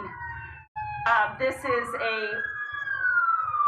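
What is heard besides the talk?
police car sirens of Orange County Sheriff's deputies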